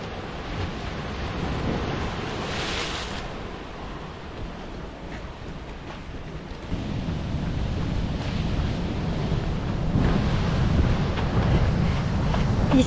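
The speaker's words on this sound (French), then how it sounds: "Wow, les vagues." Ocean waves roll and crash continuously on a beach, surf rollers building louder toward the end, with wind buffeting the microphone throughout.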